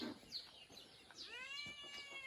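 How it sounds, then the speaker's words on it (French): A cat meows and grumbles in a few short, complaining calls, fairly close but soft, with faint background noise and no speech. "Le chat, il est là. Il arrête pas de râler."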